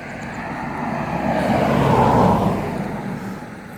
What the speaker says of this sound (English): And here comes another car, my lord.